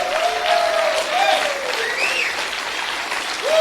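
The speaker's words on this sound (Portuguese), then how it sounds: "Pode aplaudir" A church congregation applauds at a service, steady dense clapping from a crowd with a voice calling out over it.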